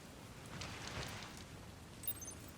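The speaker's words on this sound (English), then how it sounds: "On the PS5, you can hear the rain in the controller speaker." Rain in the video game Pokopia, heard as a steady, soft hiss of rainfall with a faint bright tick near the end, quiet and continuous, and no talking.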